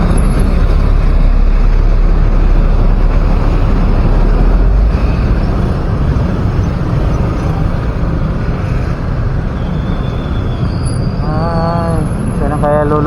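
Road traffic of motorcycles and cars on a Philippine highway during a south-north motorcycle ride, a steady loud rumble of engines and wind buffeting close by, with brief high electronic tones and chirps near the end.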